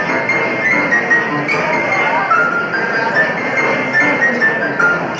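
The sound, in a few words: crowd of about 750 people imitating a piano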